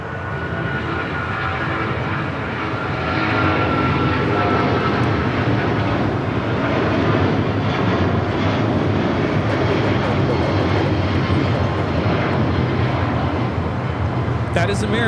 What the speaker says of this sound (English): That is American Airlines 274 taking off to JFK on the 777-200ER